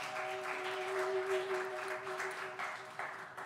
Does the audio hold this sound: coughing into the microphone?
no